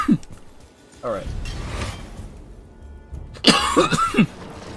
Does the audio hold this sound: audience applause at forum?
no